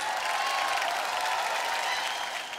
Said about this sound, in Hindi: इस विचार के लिए आप सबको ताली बजाना चाहिए।